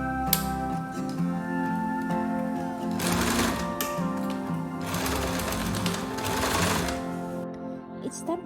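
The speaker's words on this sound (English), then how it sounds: "Then it was time to bring them to the sewing machine." A sewing machine runs a straight stitch joining a side panel onto baggy pants, its steady mechanical chatter rising into two louder, denser bursts of fast stitching before stopping abruptly near the end.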